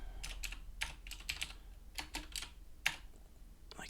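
Fast, uneven typing on a computer keyboard during JavaScript coding, a close run of light key clicks and clusters of taps with brief pauses, no voices.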